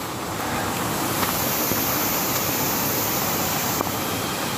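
Heavy rain and a flash-flood torrent of rushing water roar steadily and loudly, a dense broadband wash with wind buffeting the microphone and no pauses.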